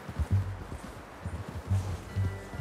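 A horse's hooves clip-clop at a walking pace in Red Dead Redemption 2, soft and low with a steady uneven rhythm over faint ambient rustle.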